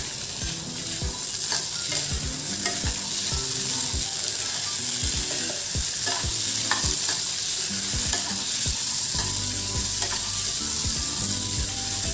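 Chickpeas sautéing in oil over medium heat, a steady close sizzle broken by repeated scraping and stirring clicks of a spoon against the pan, continuous and without speech.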